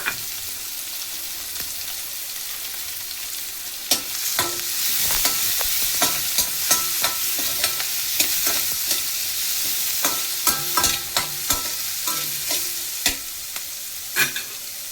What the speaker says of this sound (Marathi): तो आपण कांदा टाकूया आणि ह्यालाही परतून घेऊया तांबूस रंगावर।